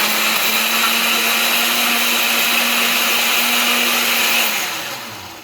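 A countertop blender runs on its smoothie setting, whirring kiwi and peaches with a loud, steady motor drone that holds level, then winds down near the end.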